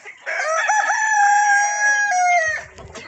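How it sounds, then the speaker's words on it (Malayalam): Native farm roosters crowing, one long clear crow close by lasting a few seconds, with faint clucking and farmyard noise trailing off at the end. "നല്ല ഭംഗിയുള്ള ഒരുപാട് പൂവൻ കോഴികളുണ്ട്."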